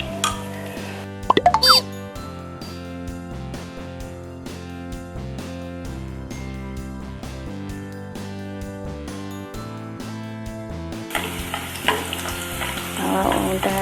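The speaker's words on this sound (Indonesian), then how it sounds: "Ini kita aduk." Chicken liver in an Aceh-style white curry being stirred in a pan, with soft scraping and bubbling cooking sounds running steadily under background music, a few sharper plops near the start.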